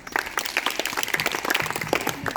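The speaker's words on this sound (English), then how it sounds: "Clap for Dolly." Children and staff at a summer camp clap together, a brisk, close, uneven patter of many hands throughout with faint voices mixed in.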